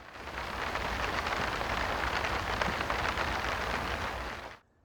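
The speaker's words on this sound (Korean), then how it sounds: "깊은 겨울밤에 잠긴 위례 상월선언엔 구슬픈 빗소리만 하염없이 들려옵니다" Rain falls steadily on a deep winter night at a Buddhist retreat, a dense, even hiss of drops that holds constant for several seconds and then cuts off abruptly.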